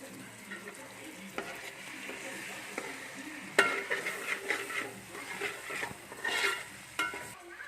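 Eggs frying in a pan with chilli sauce while cooked rice is added, with a steady sizzle and scraping, stirring utensil clinks, close and moderately loud with no talking.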